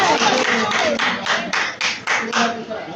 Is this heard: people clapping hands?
yes